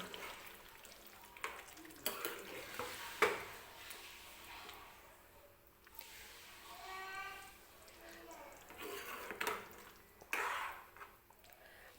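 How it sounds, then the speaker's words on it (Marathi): Quiet stirring and scraping of chicken gravy in a pan with a soft sizzle, spoons clinking now and then, a voice talking intermittently. "आणि छान असं मिक्स करून घ्यायचं आहे"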